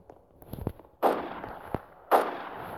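Gunfire in the Roblox video game: two sharp, fairly loud shots about a second apart, each with a short noisy tail, preceded by faint scattered clicks and with no talking.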